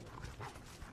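A dog in the horror game Die Young gives a short burst of yips and barks over a dense, noisy background, fairly close and loud.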